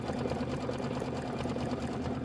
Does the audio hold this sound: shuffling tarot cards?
no